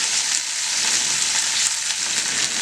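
Chana dal, urad dal, cashews, curry leaves and ginger sautéing in hot oil, a dense, loud, even sizzle that holds steady from start to finish, close and without speech.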